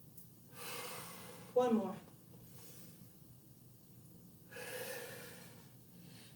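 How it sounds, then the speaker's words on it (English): A single short, sharp deep breath in during an exercise class, heard up close, with an instructor speaking briefly nearby. "So let's do a deep breath in."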